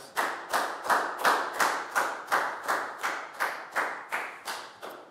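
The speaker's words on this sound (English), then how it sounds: "High five and a big round of applause for Nadia," Schoolchildren in a Year 4 classroom clap together for a classmate, a dozen or so evenly spaced, fairly sharp claps in a steady rhythm, close and clear with no talking.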